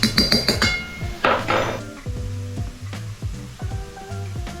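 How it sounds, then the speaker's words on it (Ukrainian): Mushrooms frying in oil in a pan make a soft, steady sizzle at close range, broken by a few utensil clinks and knocks against the cookware. "Смажте їх на сковорідці."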